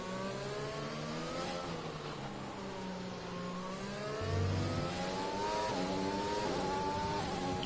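A Formula 1 car in the F1 2020 racing game, on the Brazilian GP circuit, screams steadily through high revs with rising gear-change sweeps as it climbs uphill in 5th or 6th gear, loud and unbroken, with no talk.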